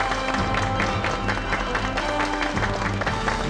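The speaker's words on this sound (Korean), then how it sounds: "박수로 모셔보겠습니다." Applause from a TV studio audience welcoming a guest onto a talk show, a continuous moderate clapping with a low musical bed underneath.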